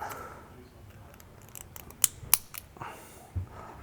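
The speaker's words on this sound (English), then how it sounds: "this plastic feels so insanely brittle. Like, it's supposed to lock like that. And I think you can hear the crunchiness on this." A new plastic BMW F30 parking brake cable retainer is snapped into place, giving a few sharp, brittle clicks and crunches close up amid quiet handling noise.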